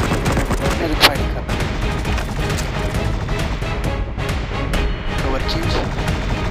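Enemy gunfire in a video game, a dense, continuous crackle of rapid shots and bursts with one sharper, louder crack about a second in, sustained throughout at fairly close range.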